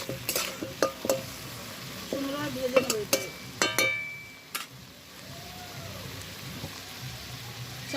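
Chunu fish being fried with green tomato in a curry, giving a soft sizzle with scattered clinks and scrapes of stirring early on, then settling into a steady low frying hiss without talk.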